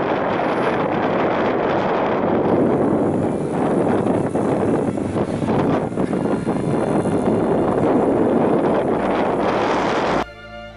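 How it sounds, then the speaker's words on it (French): Strong headwind roars steadily across the microphone while bikepacking in Sicily, a loud continuous rushing that cuts out abruptly near the end. "un petit vent de face"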